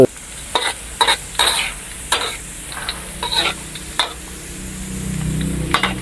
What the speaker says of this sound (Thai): รอให้น้ำมันร้อนก็จะเอากระเทียมใส่ลงไปเจียว เจียวให้เหลือง